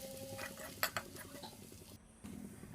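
Onion, garlic and chili paste with turmeric, salt, red chili and coriander powder stirred in hot oil, heard as faint scraping and a couple of clinks of a spoon against the pan over a low background hiss.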